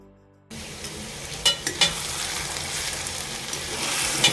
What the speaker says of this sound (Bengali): বিরিয়ানির জন্য এই যে পেঁয়াজটা এখন আমরা ফ্রাই করে নিচ্ছি বেরেস্তা বানাবো